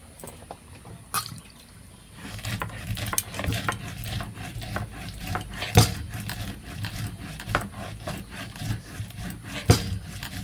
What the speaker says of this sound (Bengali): মা এই যে গরম মশলা বাটতেছে।